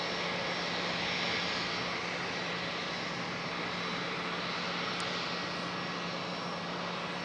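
Airliner jet engines rumbling steadily during pushback at Charlotte Douglas airport, a broad, continuous roar heard from a distance with a constant low hum and no voices.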